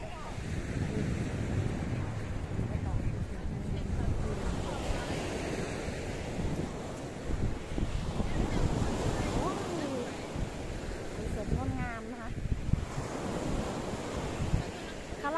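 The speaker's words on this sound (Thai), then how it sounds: "คลื่นนะคะ" Baltic Sea waves breaking on the shore at Warnemünde, a continuous loud wash of surf mixed with gusting wind on the microphone, with a voice faintly heard in the background.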